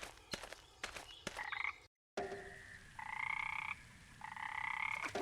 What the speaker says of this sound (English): I always loved going to bed and hearing frogs sing in the pond.